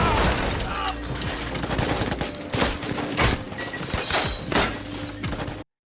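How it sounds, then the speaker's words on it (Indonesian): A film shootout inside a building fills the scene with rapid bursts of gunfire mixed with sharp cracks and shattering debris, loud and chaotic from start to finish, with a voice speaking over the action. "Adu tembak antara mereka berlangsung cukup lama."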